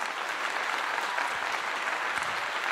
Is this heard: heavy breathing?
no